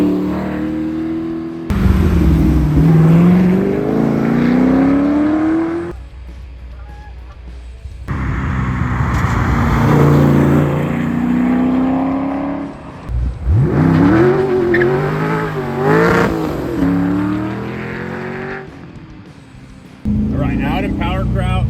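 A V8-swapped Porsche 911 revs hard and accelerates, engine note climbing in repeated rising sweeps with bursts of tire squeal, loud and close, broken by brief quieter gaps as people talk over it.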